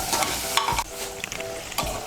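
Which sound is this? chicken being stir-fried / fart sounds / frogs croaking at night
chicken being stir-fried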